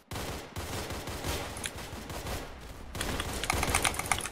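Rapid pistol fire from the online shooter game Arsenal, a dense stream of quick cracking shots that carries on without a break and grows louder and busier toward the end.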